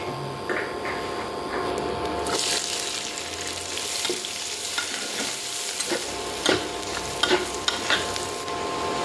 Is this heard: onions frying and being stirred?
yes